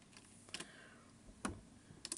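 A computer keyboard gives a few faint, scattered key clicks in a quiet room, with several sharper taps spaced irregularly and no voices.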